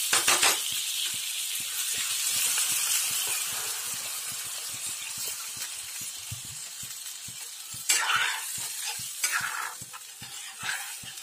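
Cumin and spices fry in a pan for a rohu fish curry, a soft continuous sizzle with frequent light stirring clinks and scrapes of a utensil, close and fairly quiet, with no talking.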